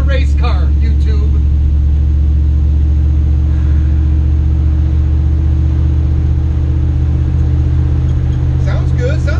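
A 1960 Metro van with an all-wheel-drive Hemi engine cruising on a road gives a loud, steady, deep engine rumble that drones on without letup for the whole stretch.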